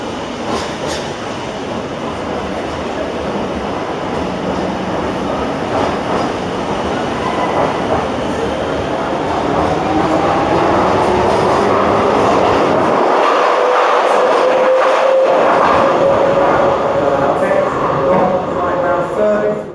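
A Docklands Light Railway train in London rumbles steadily and loudly, with wheels clacking and a rising whine as it moves, close by throughout.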